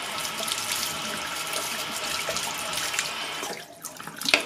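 A bathroom tap runs for watering a small air plant, a steady close rush of water that thins out toward the end, with a few splashes and clinks as it stops.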